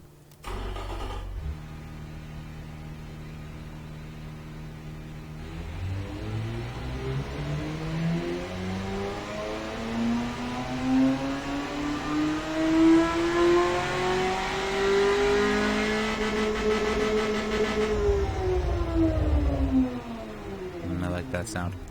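A simulated car engine with no muffler, from the game Automation, idles briefly, then revs in a loud, raw rising sweep, peaks, and falls back, prominent throughout.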